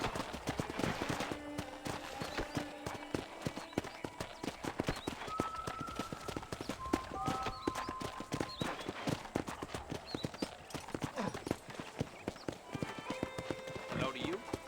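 Horse hooves in Red Dead Redemption clip-clopping at a steady walking rhythm on a ranch property, continuous and fairly faint beneath someone talking.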